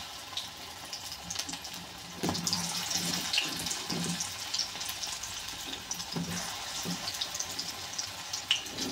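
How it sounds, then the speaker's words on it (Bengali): Small pakoras made with leafy greens frying in hot oil, a steady crackling sizzle with bursts of bubbling and faint clinks from a utensil, close and fairly quiet, no one talking. "তো তেল গরম হয়ে গেছে বন্ধুরা, এখন আমি ভাজবো"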